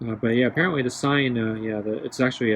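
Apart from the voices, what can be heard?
None of the usual background noises is heard.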